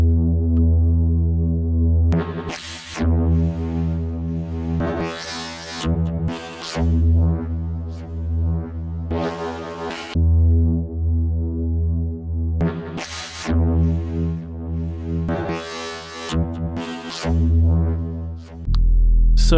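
Granular echo-grain textures from a time-stretched bass sample: a droning low bass with stacked harmonics, broken by repeated bright noisy bursts and shimmering echoes, loud and continuous without talk.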